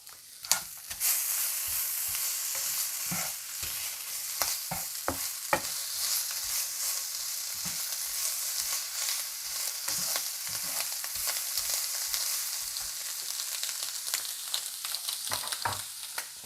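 Ham and potato fry in a non-stick pan with a steady, close sizzle, punctuated by repeated sharp scrapes and clicks of stirring throughout; no voices.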